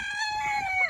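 Rooster crowing up close and loud, a single sustained cock-a-doodle-doo call that rises and falls over about a second, from a backyard flock kept with ducks and chickens.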